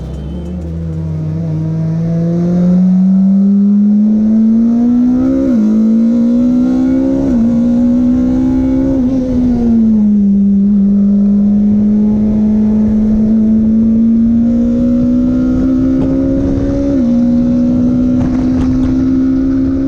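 A BAC Mono R single-seater sports car drives past and away, its engine revving and holding a loud, rising drone with small gear-change dips, wind buffeting the microphone throughout.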